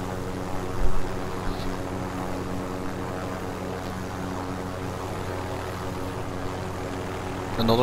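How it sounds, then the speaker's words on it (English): A helicopter in Call of Duty Warzone, a steady low rotor drone throughout with a brief thump near the start, heard under game sounds. "Another helicopter."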